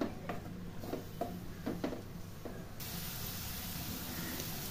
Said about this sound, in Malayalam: അതിനകത്ത് ഈ 2 ചോപ്പ് ചെയ്തിട്ടുള്ള സവാള ഇട്ട് വഴറ്റാൻ പോവുകയാണ്